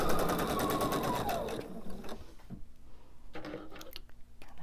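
A sewing machine chain piecing fabric triangles for a pillow, its fast steady stitching rattle loud at first, then stopping, followed by faint handling sounds and light clicks.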